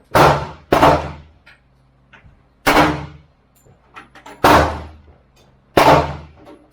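Gunshots at an outdoor shooting range, five sharp loud reports spaced irregularly about a second or two apart, each with a short decaying ring, with faint clinks between.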